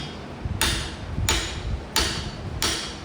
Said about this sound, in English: I'm going to tap that on with a big socket.